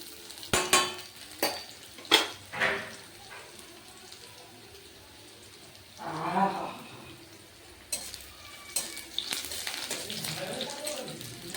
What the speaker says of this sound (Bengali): রসুন কুচিগুলো দিয়ে দেবো।